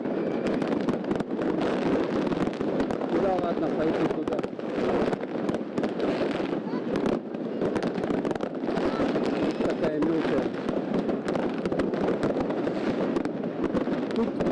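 New Year's night fireworks and firecrackers in Yakutsk burst and crackle all around, dense and continuous from near and far, with wind buffeting the microphone and someone talking briefly over the din.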